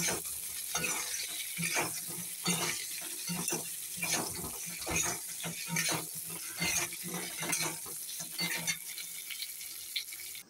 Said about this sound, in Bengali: বেগুনটাও ভেজে নেব একসঙ্গে, বেগুন আর আলু একসঙ্গে ভেজে নেব।